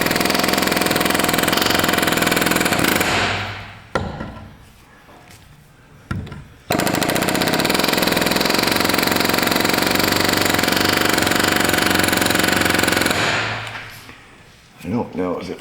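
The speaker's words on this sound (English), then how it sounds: "Then we're gonna go around with our air hammer." Loud, continuous pneumatic air hammering roars in long bursts on a press-in front wheel bearing of a 2010 Toyota Corolla, stopping briefly twice with short quiet gaps and a clank between runs.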